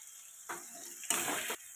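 Spices and chopped tomato with salt sautéing in a pan for a boal fish and potato curry, two loud bursts of sizzling frying close by, with a quieter background hiss between them.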